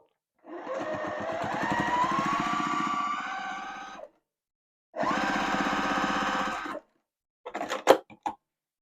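A sewing machine stitches a quarter-inch seam joining thin white sashing to quilt-as-you-go blocks, running in two steady whirring bursts of a few seconds each, then a short clattery stop-start, close and clear with no talk.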